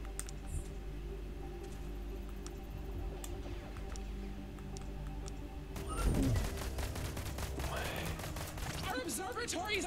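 Gunfire crackles in a video game, a fast burst of shots swelling around the middle and scattered reports after, fairly quiet and mixed with game sounds and clicks.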